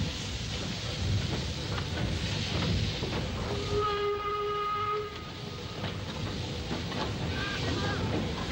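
Steam locomotives haul trains on the West Coast Main Line past Oxley North Junction, a steady loud rumble and rattle of wheels on track with a sustained whistle tone sounding midway.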